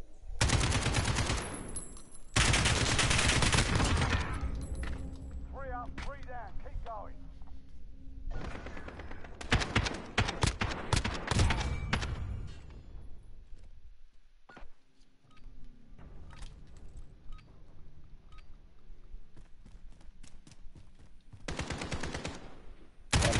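Shotgun fire in the Call of Duty video game, with loud, sharp blasts coming in bursts through the clip, mixed with other in-game gunfire and effects.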